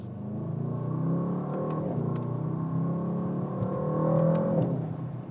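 A Mercedes-AMG GT63S 4-Door pulling hard under acceleration, its engine rising in pitch through the gears with a steady exhaust roar from inside the car, a few brief clicks on top and no talk.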